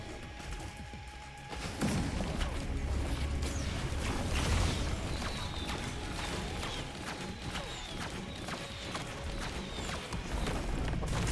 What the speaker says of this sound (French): c'est l'imprimante 3D qui tourne derrière.